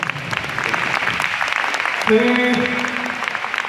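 Applause from an audience at a Hong Kong music awards ceremony for best male singer and favourite song, a broad patter of clapping under a man's amplified speech, with sustained musical tones entering partway through.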